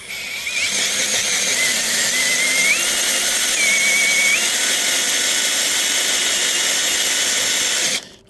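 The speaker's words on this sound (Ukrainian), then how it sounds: "непогано воно свердлить" A power drill grinds steadily into a steel rail, a continuous loud whine with shifting high squeals, running for about eight seconds before cutting off abruptly.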